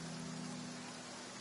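Steady, dense rain falls in Genshin Impact, a continuous even hiss with a low droning tone beneath, uniform throughout with no pauses.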